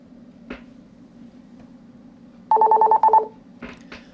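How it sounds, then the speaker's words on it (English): Ringing of a phone receiving an outbound call: one short two-tone ring burst in the middle, clear and fairly loud against a quiet background with faint clicks around it. "When the phone that's being called rings, answer and be sure to say hello."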